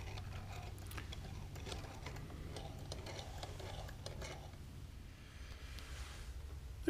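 Hand-cranked automaton diorama running with its main robot removed, belt and pulley drive and rear lever mechanism ticking and clattering in a steady mechanical rhythm, close and fairly quiet, with a low hum beneath.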